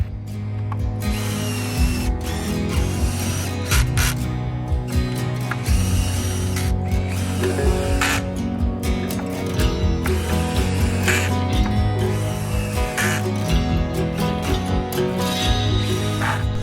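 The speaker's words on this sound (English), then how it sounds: "we're going to pre-drill all of our screws into the boards" Screws being pre-drilled and driven to fasten wooden boards together for a self-closing cattle panel garden gate; a continuous, close, loud stretch of power-tool whirring and ratcheting mechanical clatter with no talk.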